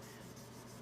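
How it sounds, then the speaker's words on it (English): Quiet, steady rubbing of sandpaper on a homemade knife blade, sanding off copper patina, a continuous soft scratchy sound close by, with no voices. "So I'm sanding off that copper patina"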